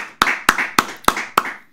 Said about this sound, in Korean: 간 걸 믿으시는 분들은 박수로 영광 돌리겠습니다